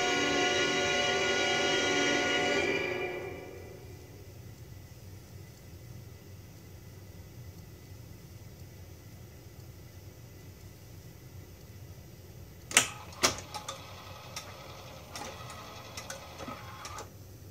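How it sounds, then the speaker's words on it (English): A multiple 8-track cartridge player skips ahead to the next cartridge, a steady mechanical whir at first that fades out, then a few sharp clicks and clunks as the mechanism shifts and settles. "since it skips any cartridges that are not currently installed, it goes directly to cartridge 2"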